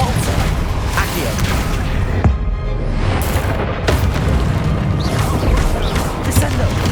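Continuous booming spell explosions and crashing impacts from the video game Hogwarts Legacy, loud and dense, with a couple of brief drops before the blasts resume at full force.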